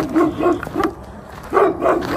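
A Kangal guard dog barks repeatedly in a quick series of yips and barks, pauses briefly, then barks again. The barking is fairly close and loud.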